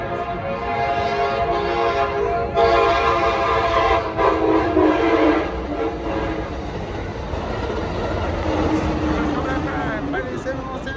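An Amtrak passenger train passes through a station platform, loud and close, with rolling clatter, a sounded horn and brake squeal, while a station announcement plays over it.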